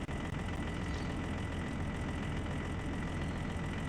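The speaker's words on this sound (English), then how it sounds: "Sounds to me like the machine needs to be idled up" A slow mining machine in the Bergsbruk mining video game runs its engine at a low idle, producing a steady, dense rumbling drone throughout with a faint higher whine and no talking.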